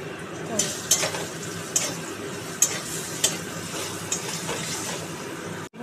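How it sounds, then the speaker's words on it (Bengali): Eggplant fries in a pan with turmeric and salt for a Bengali fish curry, giving a steady sizzle broken by several sharp clinks and scrapes of a spoon against the pan. "এবার বেগুনটাকে একটু ভাজা ভাজা"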